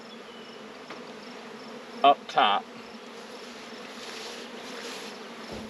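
Honey bees swarming around a nuc hive make a continuous, even buzzing drone up close, with a few brief louder bursts as a voice speaks over it.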